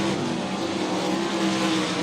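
Sprint cars race around the dirt oval at South Texas Speedway, a steady loud engine drone with a sustained roar and no voices over it.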